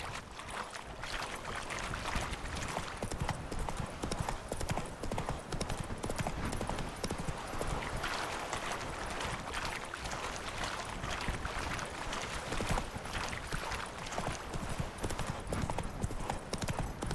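A horse gallops in The Witcher 3 video game, its hooves a dense, steady clip-clop that runs without pause throughout, mid-loud over an ambient game background.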